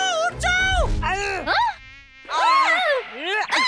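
A cartoon mosquito buzzes in high, wavering whines that rise and swoop repeatedly, loud and close, broken by short pauses, with a cartoon frog setting; the buzzing sounds voiced and imitative rather than a real insect.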